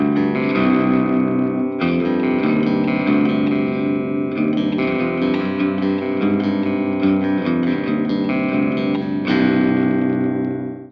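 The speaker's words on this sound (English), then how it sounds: "And then in the middle position, which is the coil split, it sounds something like this." Loud distorted chords come from a Telecaster on its coil-split middle pickup, tuned to drop C and played through a Marshall Valvestate amp. Repeated strummed phrases carry effects and reverb and stay dense and sustained throughout.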